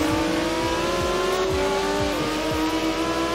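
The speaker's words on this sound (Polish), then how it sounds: "ale ta M4 jest bardzo nieproporcjonalnie głośna" A loud BMW M4 engine in Forza Horizon 4 drones and revs at high pitch, rising and falling through gear changes, close and continuous with no talking.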